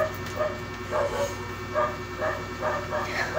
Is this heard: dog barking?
yes